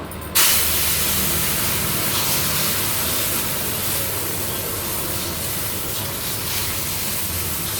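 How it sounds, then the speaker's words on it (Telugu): Pesarattu batter hits hot oil on a pan and erupts into a loud, close, broad sizzle that starts abruptly and then hisses on steadily for several seconds. "ఆయిల్ కూడా బాగా హీట్ ఎక్కింది. ఇప్పుడు పెసరట్టు వేస్తున్నాను."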